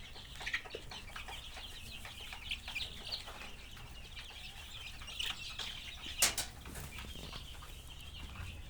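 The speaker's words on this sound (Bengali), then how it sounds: "মুরগিগুলো অনেক সুন্দরভাবে খাচ্ছে" Vaccinated chickens feeding, with soft scattered clucks and pecking, occasional wing flaps and one sharper burst, fairly faint and continuous throughout.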